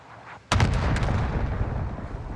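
Cluster strike explosions in Call of Duty: Vanguard burst in suddenly and loudly, a rapid string of booms rolling into a sustained rumbling barrage with no talk over it.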